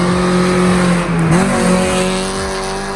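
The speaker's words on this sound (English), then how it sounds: "we hit up our local closed course drifting spots." A car drifts on a closed course, its engine revving loudly and steadily while the tires squeal, with a brief dip and shift in engine pitch midway.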